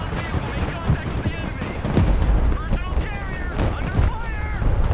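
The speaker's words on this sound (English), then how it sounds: "Holy moly, that was a big explosion." In the military strategy game Broken Arrow, a battle with Stryker vehicles produces a big explosion with heavy booming blasts, rumbling bursts and gunfire-like cracks. The din swells around the middle and near the end, and a voice talks faintly underneath.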